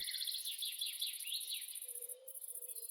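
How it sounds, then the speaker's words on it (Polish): Crickets or cicadas trill steadily and fairly loudly in a pulsing high-pitched drone, with a second lower insect chirp joining partway through, and no voices present. "Tak, są to świerszcze albo cykady, a nie trzeszczenie mikrofonu."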